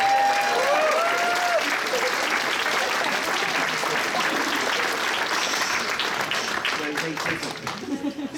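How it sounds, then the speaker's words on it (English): Convention masquerade crowd applauds loudly, a dense wash of clapping that holds steady and then thins out near the end, with faint voices mixed in. "give them a round of applause as they go off the break."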